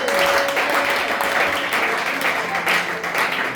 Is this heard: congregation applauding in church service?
yes